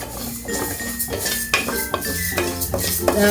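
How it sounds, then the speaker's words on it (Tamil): Moong dal dry-roasting in a pan on a sim-to-medium flame, with a spoon stirring and scraping against the metal in repeated close clinks and scrapes throughout. "பாசி பருப்பு இதை வந்து லைட்டாக கொஞ்சம் லைட்டாக வறுத்துட்டு"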